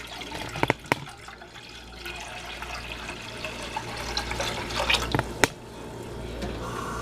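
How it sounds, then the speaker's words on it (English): A liter of water poured into a cooking pot, splashing and gurgling continuously with a few sharp clinks and drips, close and without talk. "what you're going to need is 1 liter of water into a pot"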